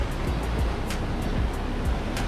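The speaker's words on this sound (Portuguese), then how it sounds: "A água aqui do nosso lado." Sea water surging and washing over rocks beside a rocky trail to natural tide pools at Praia da Conceição, a continuous loud rushing wash with no talk.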